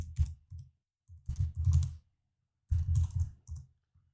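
Keys click on a computer keyboard in short bursts separated by pauses, close and fairly quiet, as a web address is typed in.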